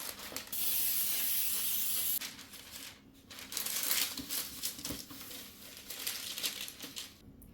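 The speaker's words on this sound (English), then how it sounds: "here I have a pan, which I'm gonna spray" A loud aerosol cooking spray hisses onto a baking pan in a sustained burst for about two seconds, followed by crinkling, rustling and light handling noises nearby.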